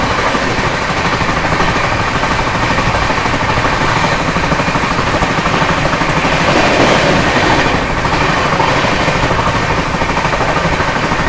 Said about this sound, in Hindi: सोहेल देव सुपरफास्ट एक्सप्रेस रूड़ा पे ओवरटेक कर रही है अवध एक्सप्रेस